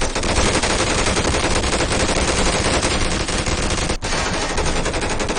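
Airsoft guns fire in rapid, sustained bursts during an outdoor airsoft game, a dense, loud rattling volley that continues almost without pause.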